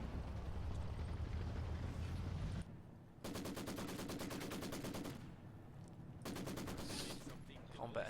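Maxim machine gun firing in a real-time strategy game, rapid rattling bursts of a few seconds each separated by brief gaps, fairly faint overall beneath battle noise.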